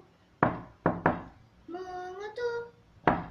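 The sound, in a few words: knocking on a door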